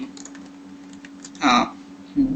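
Keys clatter on a computer keyboard while code is written for a lecture on string libraries, with light, rapid taps and a louder burst near the end, faint speech in the background.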